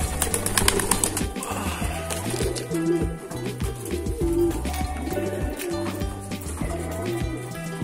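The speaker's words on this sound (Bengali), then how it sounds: "পায়রা খাচ্ছে তোমরা দেখতেই পাচ্ছ" Pigeons coo in low, repeating phrases as they feed close by, over a busy, continuous background.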